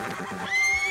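A horse in Red Dead Redemption 2 gives a short, fairly loud whinny that rises and holds a high, tonal squeal, with no voices over it.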